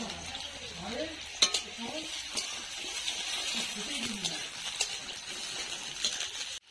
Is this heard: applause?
no